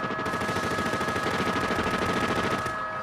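A fully automatic modified AK-47 fires a sustained burst at a fast, steady rhythm, dense and continuous for about three seconds, loud and unbroken with no speech over it.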